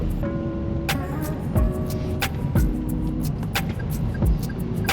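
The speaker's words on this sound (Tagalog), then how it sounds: "ang daming motor dito sa probinsya" Motorcycles pass along a provincial road, their engines making a steady traffic rumble with several louder passes rising and fading at close to middle distance.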